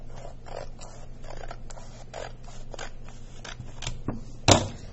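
Scissors cutting a sheet of paper in half lengthwise with one straight cut, a series of short crisp snips and rustles close by, ending in a sharper louder snip near the close.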